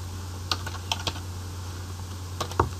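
Scattered computer keyboard keystrokes while JavaScript code is typed, a few isolated taps and short bursts over a steady low electrical hum, with no speech.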